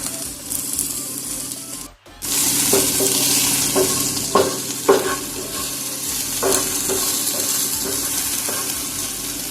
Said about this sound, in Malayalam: സവാളയും പച്ചമുളകും നമുക്ക് ഇതിലേക്ക് ഇട്ട് കൊടുക്കാം ഒന്ന് വഴറ്റി എടുക്കണേ